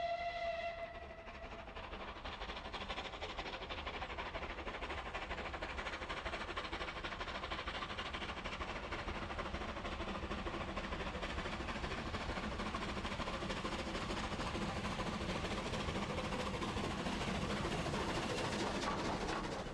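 A rebuilt Bulleid West Country Pacific steam locomotive, a short whistle blast at the start, then a steady loud rumble and clatter of the train running for the rest, with no voices.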